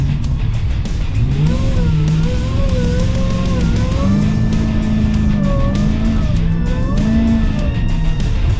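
A Jeep with a swapped-in Demon engine drives through the desert, the engine revving up and down in rising and falling waves as it climbs through gears, loud and close, with no talk.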